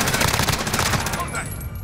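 Rapid automatic gunfire from a big gun in Call of Duty rattles loud and dense for most of the moment, easing off near the end.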